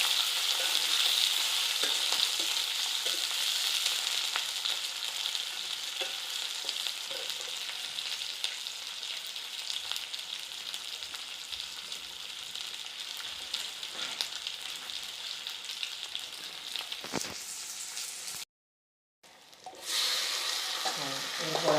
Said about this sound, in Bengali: এবার আবার তেল দিচ্ছি আমরা। তো এরপরে পেঁয়াজ কুচি দিলাম।